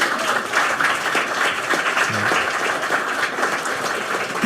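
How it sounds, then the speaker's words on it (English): Audience at a live podcast taping in Toronto claps and cheers, a loud, sustained, dense burst of applause from a large crowd, with scattered whoops mixed in. "Give yourselves a round of applause."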